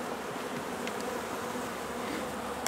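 Honeybees from an overwintered hive fly in and out of the entrance on a warm day, making a steady, dense buzzing hum that stays close and constant throughout.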